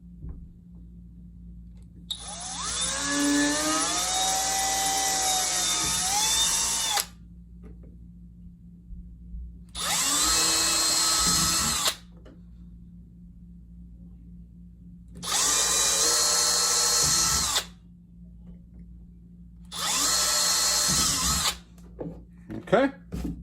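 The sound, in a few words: drilling pilot holes with a small drill bit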